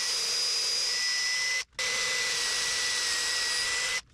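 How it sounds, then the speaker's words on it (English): A power drill bores dowel holes in wooden trim during a boat refit, running as a loud, steady whine that cuts out briefly twice, close by with no talk. "Now it's drilling the dowel holes for the other side."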